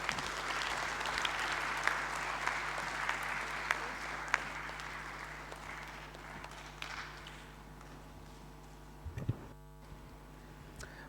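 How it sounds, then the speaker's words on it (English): Applause from a large audience fills the room at the opening of the Tanzania Oil and Gas Congress 2019, steady and broad at first, then thinning into scattered claps and a few sharp knocks near the end. "Let's clap once again, resounding, please, around the room."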